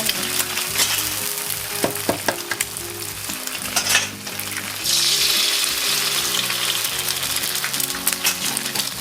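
About two eggs sizzle and crackle in a hot pan with fried garlic for fried rice, with a steady loud frying hiss, scattered pops and scraping utensil clinks throughout.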